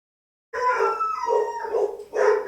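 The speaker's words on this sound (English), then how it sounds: "Someone's barking at my door." A dog at the door howls and barks indoors, a sustained wavering cry starting after a half-second pause, then two more bursts, fairly close and loud with no talking over it.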